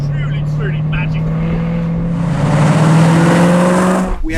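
Jaguar F-Type with a Predator 670bhp tuning package, exhaust on its loud setting while driving country lanes: a close, droning engine note that rises in pitch under acceleration, with someone talking over it at first.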